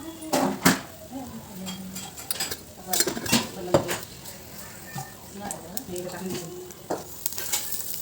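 Salt, water and sugar go into a sizzling tempering for dhokla, with a hiss and spatter in the pan, clinks of a spoon against metal, and stirring close by under speech.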